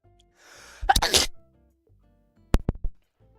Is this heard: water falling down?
no